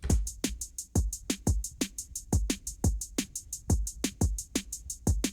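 Programmed drum and bass groove of thudding kicks, sharp snares and busy ticking hi-hats, a fast steady loop played alone, up close and loud.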